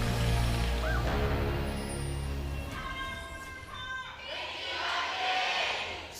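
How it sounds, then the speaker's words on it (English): A large fan crowd cheers and roars at a League of Legends esports match between KT Rolster and Afreeca Freecs, a steady distant wash of crowd noise rising and falling throughout. "Afreeca still with the big fan crowd, trying to cheer them on"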